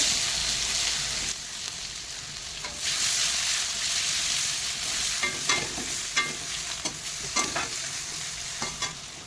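Chopped garlic, green chilies and onion sizzle in hot oil for a catla fish curry, a steady frying hiss close up with intermittent stirring scrapes and clinks.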